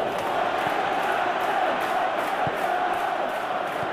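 A stadium crowd in the football video game eFootball 2022 roars steadily throughout, a dense, loud wash of cheering and chanting with no breaks, during a Premier League match between Norwich City and Manchester United.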